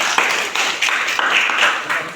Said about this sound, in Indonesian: Mari kita beri tepuk tangan yang meriah untuk materian.